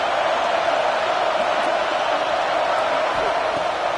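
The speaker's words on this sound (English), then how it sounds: "This crowd bringing the energy and noise early." Dense, steady crowd roar fills a large stadium at an Ole Miss vs Texas football game, a continuous wash of distant voices with a faint announcer-like voice underneath.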